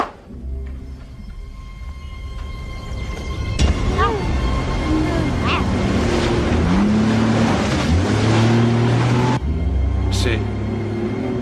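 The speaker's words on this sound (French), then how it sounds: "C'est un moteur qu'on entend." A motor, likely a boat engine, drones steadily on the water in an action film scene, its low hum rising and wavering beneath tense dialogue, with splashing and surf-like wash around it.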